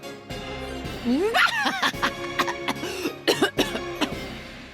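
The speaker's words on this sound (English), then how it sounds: "you just started coughing" A performer breaks into a bout of coughing while attempting a high-pitched villain laugh, producing several sharp, close bursts with strained, breathy throat sounds between them.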